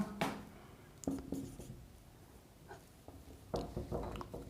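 Pen writing notes by hand during a lesson, scattered short scratching strokes in a few bursts with pauses between, close and soft with no talking.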